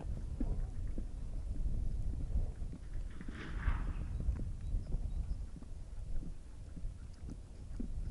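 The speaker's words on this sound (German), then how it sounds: "Lenas Pferde live." Horses pulling a carriage clip-clop steadily along a road, their hoof beats close and rhythmic under low rumbling wind noise on the microphone.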